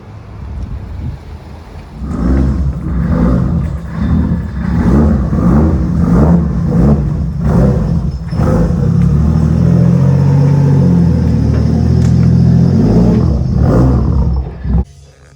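A Nissan 240SX fitted with a GSR dogbox gearbox doing a donut, its engine revving hard in repeated pulsing surges before settling into a sustained loud roar, with wind buffeting the microphone.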